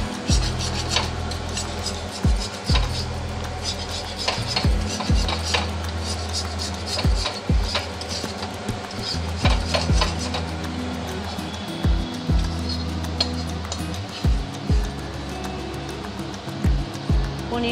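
A metal spatula scrapes a stuck kadai wok after paneer frying, rough rasping strokes repeating in an uneven rhythm with short knocks between them, close and fairly loud.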